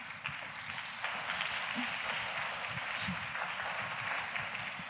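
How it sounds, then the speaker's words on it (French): Steady applause from a conference amphitheatre audience, a dense wash of clapping that holds at an even level throughout. "Et on applaudit bien fort Patricia."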